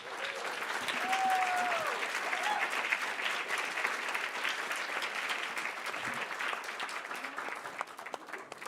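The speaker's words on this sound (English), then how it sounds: "please, one more time, applause for our panel" An audience at a restaurant-industry panel event applauds the panel, a sustained wash of many clapping hands that holds steady throughout and eases slightly near the end, with faint voices underneath.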